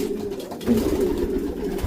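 Racing pigeons coo nearby, soft low throaty calls that repeat and overlap over a brief moment.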